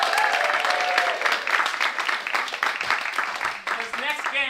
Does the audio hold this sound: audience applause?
yes